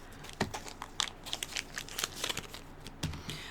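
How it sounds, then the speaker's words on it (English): A small plastic bag crinkles and rustles as a hair primer is pulled out of it, a close run of irregular crackles and soft crunches with no talking. "Let's go ahead and pull this out. It's in a little plastic bag."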